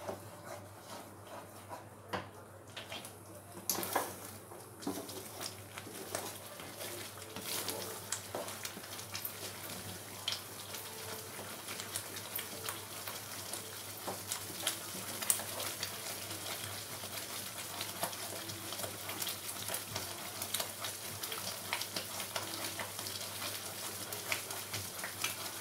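Masala with yogurt frying in a pan on a very low flame while being stirred continuously, for Kashmiri shahi dum aloo; a steady soft sizzle runs throughout with occasional faint scraping clinks, no talking.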